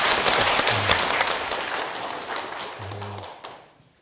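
Lecture audience at a Buddhist teaching session applauds in a steady, moderately loud wash of clapping that fades out near the end, with brief low tones underneath.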